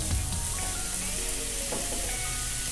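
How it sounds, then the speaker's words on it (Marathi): Boiled cabbage sautéing in a pan with cashews, almonds and raisins for cabbage halwa, giving a steady close sizzle with faint stirring scrapes throughout and no talking. "त्यात मी आता उकडलेली कोबी घालत आहे"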